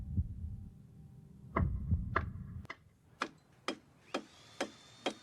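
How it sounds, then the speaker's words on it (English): A slow clock tick and heartbeat-like thumps open the Stranger Things epilogue: low muffled double beats give way to sharp, evenly spaced ticks, quiet and alone over a faint hum. "at the very beginning you can hear these two things, a clock ticking and a heartbeat-like rhythm"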